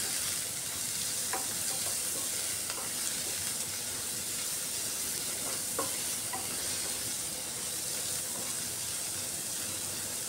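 Chopped onions with a pinch of salt fry in hot oil, giving a steady close sizzle and hiss with occasional stirring scrapes throughout, no voices.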